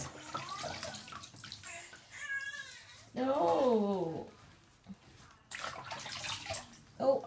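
Water runs and splashes in a bath while a baby's hair is washed, with an adult talking and the baby fussing and crying over the flow.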